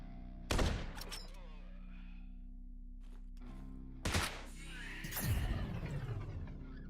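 Turret gunfire in the sci-fi game Quasimorph comes as two sharp, loud bursts separated by a few quiet seconds, the second followed by a rattling, echoing tail.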